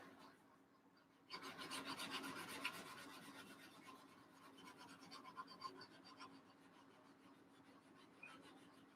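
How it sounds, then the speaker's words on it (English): A fine-grit sanding board files a part of a 1/48 Tamiya Avro Lancaster plastic model kit with steady, close, rapid back-and-forth rasping strokes that run for several seconds, fairly quiet and without talk. "It does file, but it don't gouge things out."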